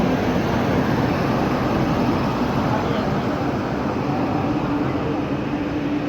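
A WAG9 electric locomotive hauls the Gujarat Queen Express with a loud, steady rumbling roar that stays constant and close throughout, with no voices over it.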